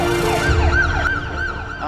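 A UK ambulance siren wails loud and close in quick rising and falling sweeps over road traffic noise, with no voices.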